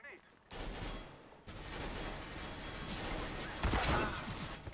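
Bursts of rapid gunfire from a Counter-Strike: Global Offensive match, loud and close, with fire running almost continuously after a brief pause and a sharper cluster of shots toward the end. A voice is faintly present.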